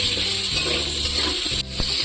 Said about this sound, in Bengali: আর এই তেলে আমি আলুটাও ভেজে নেব।